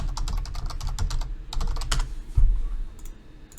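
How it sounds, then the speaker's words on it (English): Computer keyboard keys tapped on a laptop during a hacking session, a run of quick close clicks followed by a firmer single keystroke, then a few more light taps. "Now we're gonna hit enter."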